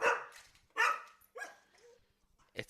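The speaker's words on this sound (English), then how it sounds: "What are you barking at?" A dog barking nearby in a home, several sharp, agitated barks in quick succession with a whine between them, fairly quiet overall.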